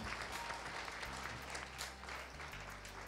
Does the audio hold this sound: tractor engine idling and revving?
no